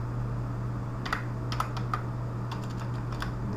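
Keys clatter on a computer keyboard in short, irregular bursts of typing as an example line is entered, fairly close against a steady low hum, with no voices.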